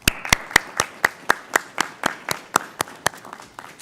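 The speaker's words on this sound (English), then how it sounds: "How about a round of applause for our Board of Education?" A small group claps at a school Board of Education meeting, giving a sparse round of applause: about fifteen distinct, evenly spaced hand claps, fairly close and moderately loud, with no talking.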